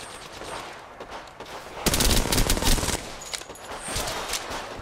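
Gunfire in the video game Apex Legends, with rapid automatic bursts crackling throughout and a dense, loud volley in the middle, sounding close and echoing and overlapping, with no talk.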